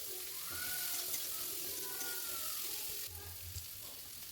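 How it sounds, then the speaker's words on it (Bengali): Onions and green chillies with a pinch of salt sizzle steadily in hot oil in a wok, a close, continuous hiss with occasional stirring scrapes. "আরেকটু তেল দিয়ে আমি পেঁয়াজগুলো দিয়ে দিলাম, ওর মধ্যে কাঁচা লঙ্কা ও দিয়ে একটু সামান্য নুন দিয়ে একটু ভাজা ভাজা মতন করে নেব"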